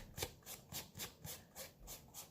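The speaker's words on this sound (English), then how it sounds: "distressing that real good. You know, sometimes I'll go down like this and just go over it like that." Paper edges of an envelope are rubbed to distress them, giving soft, quiet rasping strokes in a quick even rhythm, about four per second, close up with no talk.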